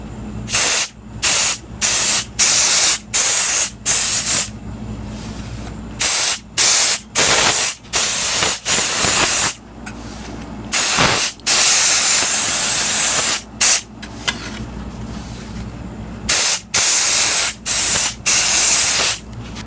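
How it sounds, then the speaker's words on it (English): An aerosol can of silicone spray sprays onto a skull in repeated bursts, loud hissing blasts of varied length broken by short pauses, heard up close with no talking. "spray the skull with some silicone spray"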